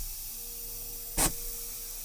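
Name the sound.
truck air brakes releasing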